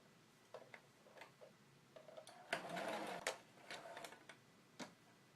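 A sewing machine stitches straight across the gathers of an apron waistband. It runs quietly at close range in a couple of short runs, mixed with soft ticks and clicks from the mechanism and fabric handling, with no talking.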